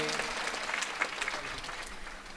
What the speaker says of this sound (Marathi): एकदा कार्यकर्त्यांसाठी जोरदार टाळ्या सर्वांनी वाजवायच्या.